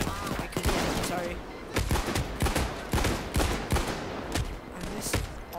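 Rapid bursts of gunfire from the video game Payday 2, dense repeated shots in quick succession at close range, with a voice talking partly underneath.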